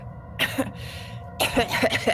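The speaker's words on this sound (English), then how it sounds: "weak coughing" Two short bouts of weak, rough coughing and throat clearing, close by, separated by a brief pause.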